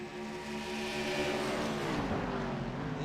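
Race cars in the iRacing video game at Mid Ohio drift through turns, their engines a sustained whine whose pitch rises and bends as they sweep past, moderately quiet and continuous with no voices.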